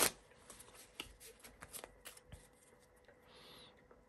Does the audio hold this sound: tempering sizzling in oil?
no